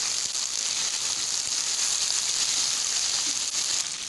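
Chicken frying in a pan of browned onions gives a steady, close sizzle, a continuous bright hiss that holds evenly throughout with no talking.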